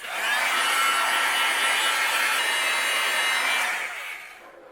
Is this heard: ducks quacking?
no